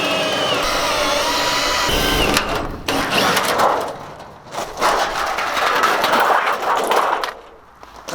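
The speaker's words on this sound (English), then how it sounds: "let's go ahead and remove these little rivets and see what we got in behind here." A power drill bores out small rivets on a mobile bar build, whining loudly at first, then breaking into uneven bursts of grinding and catching with short pauses between them; no voices are heard.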